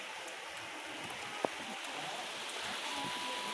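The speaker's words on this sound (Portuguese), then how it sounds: "Finalzinho de tarde, gente, ó. Chuvinha boa." Light rain falling in the late afternoon, a soft steady hiss of drops with one brief knock partway through.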